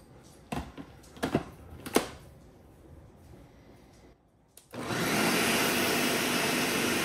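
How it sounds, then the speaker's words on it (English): A blender whirs loudly and steadily through a batter of tapioca flour, olive oil, milk, feta and eggs, starting after a few clicks and knocks and running continuously to the end. "Now that we've added all our ingredients to the blender, we are going to blend until smooth."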